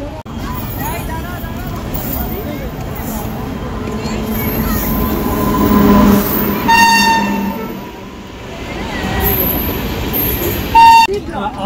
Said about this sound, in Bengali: এখন অ্যানাউন্স করলো যে আসবে ট্রেন